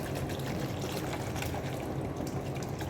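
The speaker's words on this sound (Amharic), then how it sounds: "በደንብ ውሃ ልትበት" Water is poured steadily to rinse out a container used for brewing tej and tella, a soft, continuous splashing trickle heard alone at low volume.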